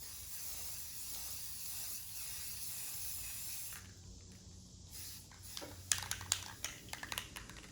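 A continuous hiss of a spray paint can runs for several seconds, then stops, followed by a few light clicks and taps.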